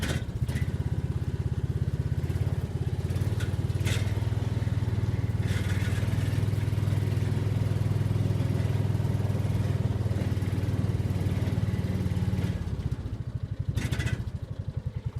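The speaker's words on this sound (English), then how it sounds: "put my little tractor, put the brake on so it doesn't roll away" A small garden tractor engine runs close by at a steady, loud drone, with a low throb that holds for most of the stretch before easing off near the end.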